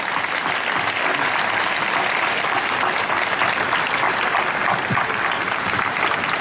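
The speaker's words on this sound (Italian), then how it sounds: "dedicherei un applauso personale a tutti quanti" Audience applause at a cinema event with comedy performers, a continuous, even roar of many hands clapping at close range without letup.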